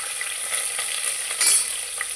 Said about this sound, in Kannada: ಈರುಳ್ಳಿ ಹಾಕೊಳ್ಳೋಣ ಹಚ್ಚಿಟ್ಕೊಂಡಿದ್ವಲ್ಲ ಈರುಳ್ಳಿ